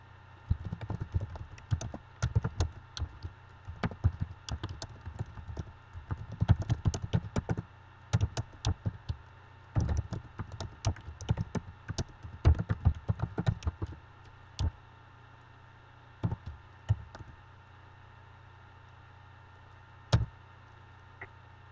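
Computer keyboard typing in irregular bursts of quick, crisp key clicks, close and fairly quiet, with pauses of a second or two between runs and isolated single taps near the end.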